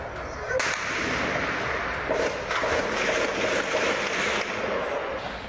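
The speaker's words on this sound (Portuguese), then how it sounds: "tomar cuidado que tá dando tiro, hein? Muito tiro." Scattered sharp cracks of gunfire from a gang shootout echo from a distance in Morro dos Macacos, Vila Isabel, Rio de Janeiro, over a steady noisy background, with muffled voices.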